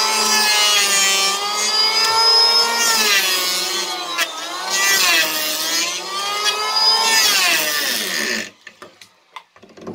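Electric hand planer cutting a eucalyptus board, a loud steady whine with rising and falling pitch as it passes along the wood, close by, then cutting off to a few light knocks.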